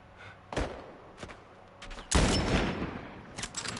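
Sniper rifle fire in The Last of Us Part I: several sharp, loud shots with booming tails, one heavier blast followed by a lingering echo and scattered later cracks.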